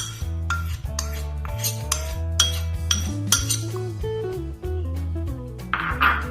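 Crispy frying batter flour being mixed in a mixing bowl, with repeated clinks and scrapes of a utensil against the bowl over a steady musical backing and no speech.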